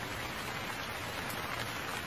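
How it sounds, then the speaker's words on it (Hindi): Steady, dense rain pours down throughout a Hindi cartoon story, a constant close hiss of drops striking surfaces with no talking over it. "ये बारिश तो रुक ही नहीं रही।"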